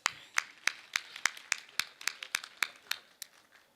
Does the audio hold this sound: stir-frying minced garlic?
no